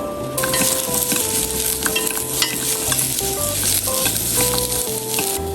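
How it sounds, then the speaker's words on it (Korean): Radish stir-fried in a spoonful of cooking oil in a hot pan, a steady sizzle broken by repeated scraping and clinking of a utensil against the pan, close up and fairly loud, with no talking. "무 이거 볶을 거거든요"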